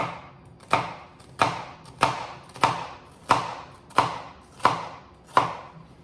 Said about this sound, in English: I'm gonna make slices down, okay?